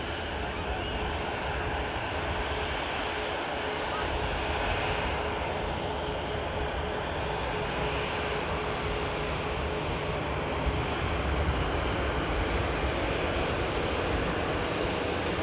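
An EasyJet airliner departs Manchester Airport bound for La Rochelle, a steady broad engine roar held at constant loudness throughout, mixed with wind-like broadband noise and no voices.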